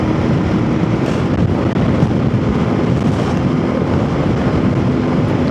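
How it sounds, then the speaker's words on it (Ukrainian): Strong crosswind roars continuously against the microphone while riding a Voge DS800X Rally motorcycle, a loud, steady buffeting rush. "Боковий вітер такий добрячий."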